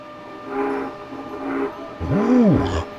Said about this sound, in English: that's an old steam train